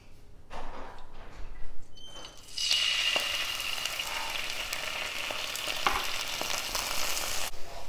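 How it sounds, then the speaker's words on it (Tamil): Milk poured into hot ghee in a pan for a watermelon kaju katli sweet, an abrupt loud sizzle that starts a few seconds in and carries on as steady frying, after some quieter clatter at first. "இப்போ நெய் நல்லா சூடாயிருச்சு, இதில் கொஞ்சம் மில்க் ஆட் பண்ணுறேன்."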